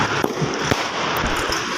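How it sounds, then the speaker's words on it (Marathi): Firecrackers set off outdoors in hot sun at a state assembly election victory procession crackle in a dense, continuous barrage of sharp pops and bangs, loud and close, with no voices. "हे फटाके लावलेलेच आपण"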